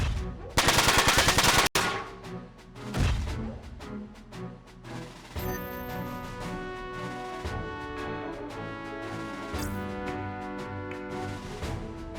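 Machine-gun fire in Front Mission 4 on the PS2 rips out in a dense, rapid burst lasting about a second, then gives way to steady game music, with no one talking.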